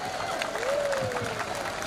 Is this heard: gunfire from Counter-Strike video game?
no